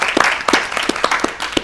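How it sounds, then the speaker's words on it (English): An audience at a community forum claps in a brief round of applause, distinct sharp claps in a loose rhythm, close and moderately loud. "Let's give yourself a round of applause."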